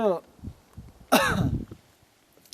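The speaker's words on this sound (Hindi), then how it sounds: "खांसी बहुत हो रही है" A single harsh cough bursts out close by, amid quiet breathy sounds and faint vocal noises before and after.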